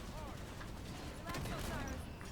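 Gunfire from Halo 5 on Legendary difficulty, used to bring down a Knight enemy: a dense burst of weapon fire and impacts at steady loudness amid busy game effects, with no talk.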